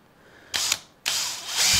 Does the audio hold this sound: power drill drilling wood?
yes